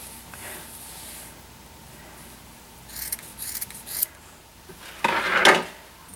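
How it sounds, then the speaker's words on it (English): Scissors snip through warp yarn loops on a Little Weaver loom: a few short, close, crisp cuts arrive in two bursts late in the clip over quiet room tone. "I'm going to cut these loops and just cut off that last little inch or so"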